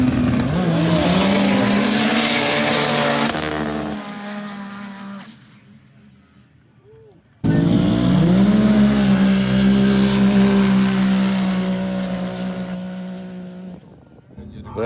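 Stock Can-Am UTVs launch off a starting line at a UTV racing event, with two loud, close bursts of engine roar whose pitch climbs as they accelerate, separated by a brief lull.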